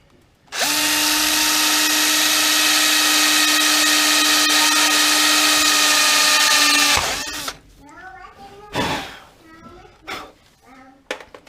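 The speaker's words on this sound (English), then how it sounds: "I use the term good quality very loosely of this Kawasaki drill." A Kawasaki cordless power drill whines steadily at high speed for several seconds, then stops; a few faint clicks and handling noises follow.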